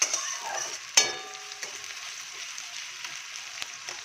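Onion sizzling in hot oil with a little whole garam masala and a dried red chili, a steady soft crackle with a sharp clatter near the start and a few light knocks later.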